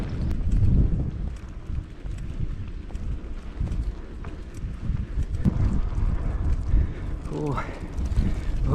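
Steady wind roars and buffets outdoors near a grass and forest fire, a low rumbling rush with gusts, and a voice speaks faintly beneath the noise.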